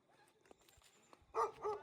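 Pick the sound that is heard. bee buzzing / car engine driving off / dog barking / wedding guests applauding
dog barking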